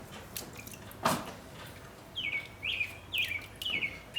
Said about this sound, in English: the birds are singing, which is nice